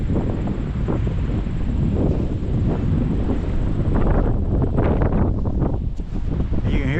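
Wind blows across a dam at a creek park in Hamburg, Pennsylvania, buffeting the microphone with a steady, loud, rumbling roar that gusts without pause.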